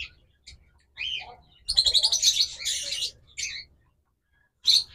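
Caged pet lovebirds and cockatiels chirp in short, bright bursts, a cluster of overlapping tweets and squawks in the middle, nearby and moderately loud against a quiet background.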